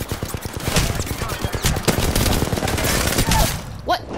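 Video game gunfire rattles in rapid, dense bursts of overlapping shots, loud and close for the whole stretch, and eases off near the end.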